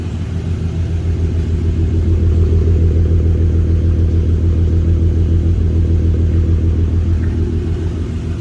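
Volkswagen Golf Mk6 with a 3.6-litre VR6 engine running just after its first start, a loud steady low rumble idling close by without talking.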